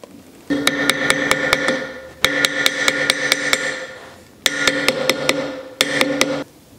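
A hammer strikes a welded fine silver sleeve to round it out, in two bursts of rapid, evenly spaced ringing metallic blows, loud and close, with a short pause between bursts and no talk.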